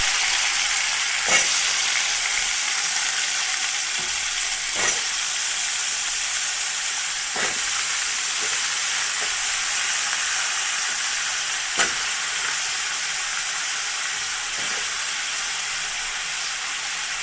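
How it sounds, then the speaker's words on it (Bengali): Dried red chilies sizzle in hot oil as a tempering for a pumpkin dish, giving a steady bright frying hiss with occasional soft clicks of stirring, close and continuous with no talking. "তো শুকনো লঙ্কা ফোড়ন দিয়ে দিলাম"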